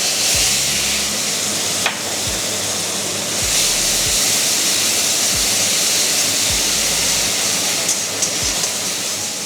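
Onion paste frying in hot oil with whole spices such as dried chillies, bay leaf, cumin, cardamom and cloves, giving a loud, steady sizzle with a few faint clinks of a utensil.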